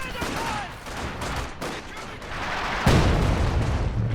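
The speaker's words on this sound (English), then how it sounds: "A cheeky Zis barrage through the tree line there" Zis gun artillery barrage in Company of Heroes 2, a series of heavy booms and gunfire crackles in a battle, with a stronger low impact near the end, with light voices mixed into the din.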